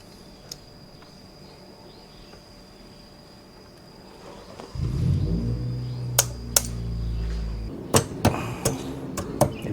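Hammer taps on a front brake caliper pin of a Royal Enfield Interceptor 650 during a pad change in a workshop: several sharp metallic knocks, irregularly spaced, following a low mechanical rumble, close and fairly loud.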